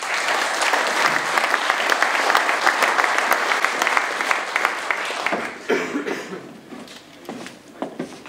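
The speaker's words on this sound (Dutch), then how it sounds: "Maak een hartelijk applaus voor Geert Versteylen en Bernezer wethouder Peter van Boekel." Audience applause at a Dutch political café evening, a dense, steady clapping crowd that thins out toward the end with scattered claps and a cough or two.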